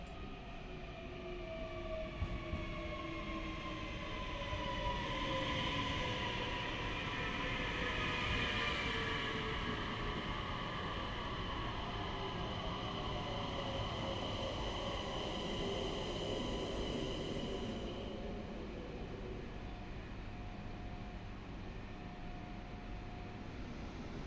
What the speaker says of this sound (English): This type of train is called Øresundståg or Litra ET